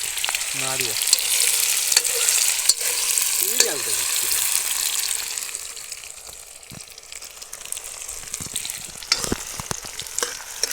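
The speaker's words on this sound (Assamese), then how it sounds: "তাৰপিছত আৰু মাংস ভাজিম।" Meat frying in oil over an outdoor fire at a picnic, a steady broadband sizzle with bursts of stirring, close and fairly loud, with faint voices briefly audible.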